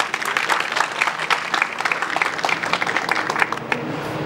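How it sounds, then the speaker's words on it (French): Audience applause at a ceremony marking the sixtieth anniversary of Guinea's independence, held in Morocco: a dense, steady wash of many hands clapping, sustained and fairly loud for the whole stretch with no talk over it. "Je vous prie de les applaudir."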